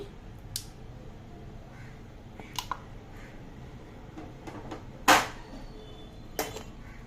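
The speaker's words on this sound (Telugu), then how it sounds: "కుక్కర్ పెట్టానండి, చిన్న కుక్కర్ 2 లీటర్లు" A small 2-litre pressure cooker is set down in a home kitchen while khichdi is being made, giving one sharp, fairly close clunk against faint background and a few softer knocks.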